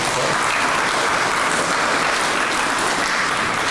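Audience at a climate change conference in London applauding, a steady dense wash of clapping that fills the hall without pause, with no talk over it.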